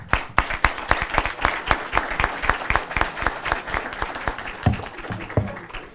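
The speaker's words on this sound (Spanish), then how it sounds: "De igual forma, lo recibimos con un cálido aplauso." A small audience at a book presentation claps to welcome a speaker, with sparse, distinct, irregular hand claps forming fairly light applause and a voice starting near the end.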